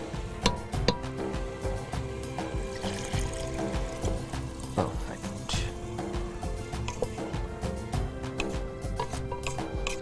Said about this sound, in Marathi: आपण नारळाचं दूध जे काढून घेतलेलं आहे ते आता ह्याच्यामध्ये मिक्स कर